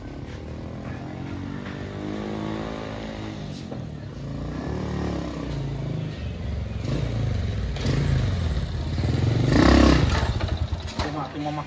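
An old motorbike engine idles and putters nearby, swelling into a louder rev near the end, with people talking over it.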